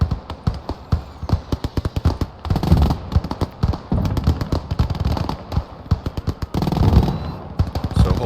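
Rapid gunfire bursts and single shots from a Gates of Hell: Ostfront World War II multiplayer battle, with Fallschirmjäger squads and 15 cm artillery in action, cracking loudly in dense, uneven volleys with no talking.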